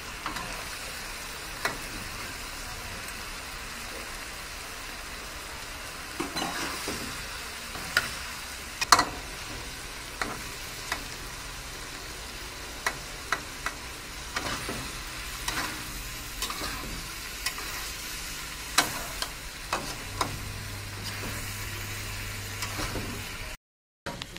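Catfish stir-fried with chilli paste, a low, steady sizzle broken by frequent clicks and scrapes of a utensil against the pan, with brief low hums in places.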